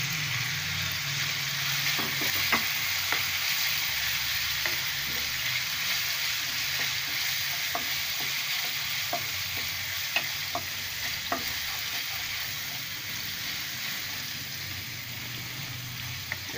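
Curry leaves sizzling in hot oil while being stirred, a steady close sizzle with scattered sharp pops and light scraping strokes, continuous and without talk.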